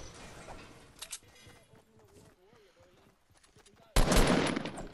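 Gunfire in the battle royale game Fortnite, with a loud burst of shots breaking out near the end after quieter game noise and light footsteps, while people talk over it.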